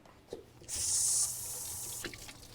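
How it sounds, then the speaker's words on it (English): Green onions rinsed under a running kitchen tap, a steady hiss of water that starts abruptly, runs loud and close, then eases to a lighter flow with a few brief splashes near the end. "I'm gonna take my green onions. Do need to rinse them really quick."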